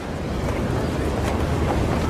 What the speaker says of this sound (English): We're almost 800 feet in the air, and you can see it's too windy.